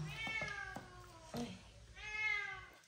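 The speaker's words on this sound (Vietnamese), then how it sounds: "Bà mèo bà đói bụng bà kêu." A hungry cat gives two drawn-out, insistent meows close by, separated by a short gap with a faint thump and rustle between them.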